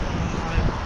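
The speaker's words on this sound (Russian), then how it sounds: "какой сильный ветер, мама моя родная." Strong winter wind roars against the microphone aboard the Moscow cable car at Sparrow Hills, a loud, continuous low rumble with brief gust swells.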